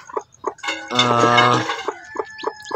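Native chickens cluck nearby and newly hatched chicks give repeated short, high peeps, with one longer drawn-out call in the middle.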